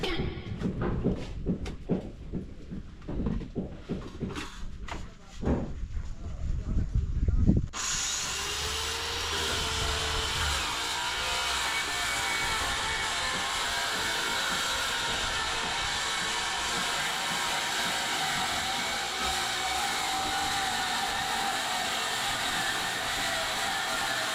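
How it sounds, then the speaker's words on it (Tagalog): An angle grinder cuts into metal while an old warehouse is being dismantled, a loud continuous whining roar that starts abruptly after several seconds of clattering knocks and bangs, then runs steadily to the end. "Pag ginamitan na ng grinder."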